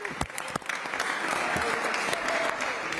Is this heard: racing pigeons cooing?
no